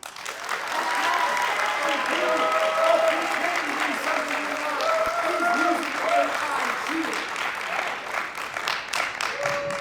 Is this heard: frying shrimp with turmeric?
no